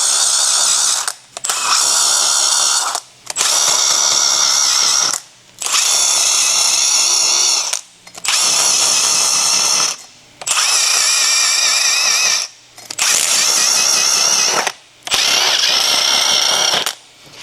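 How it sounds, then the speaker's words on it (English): Impact tool spinning scrubby pads against a brake hub surface on a 2011 Toyota Sienna, buzzing in eight evenly spaced bursts of about a second and a half each, separated by short pauses, close and loud with no talking. "We've got scrubby pads on an impact to make quick work of it"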